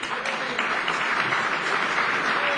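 A panel audience claps in a brief burst of applause, a continuous, moderately loud wash of hand claps with no talk.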